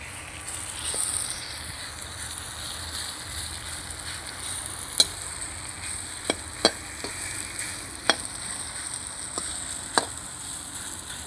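Amla gooseberries fry with roasted spices for a sweet-sour chutney, giving a steady soft sizzle while a spoon stirs with several sharp metallic clicks against the pan, close up and with no talk.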